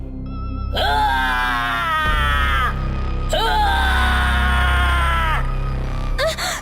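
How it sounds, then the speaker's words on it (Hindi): A horror cartoon monster gives two long, loud, wavering screams, each sustained for a couple of seconds, with a short cry at the end. "गाना बंद होने की वजह से मुंजिया एकदम जोर से चीखता है।"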